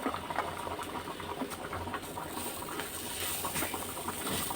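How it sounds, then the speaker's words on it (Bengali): Spice paste of turmeric, chili, coriander and cumin powders frying in a pan: a dense, steady sizzle and crackle with busy popping, close and continuous throughout, with no speech. "আমি এখন মশলাটাকে কষিয়ে নেব।"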